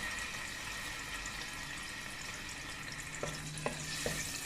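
Chopped ginger sizzling and frying in oil in a pan on a stovetop, a steady close crackle with a few sharper pops near the end and no voices.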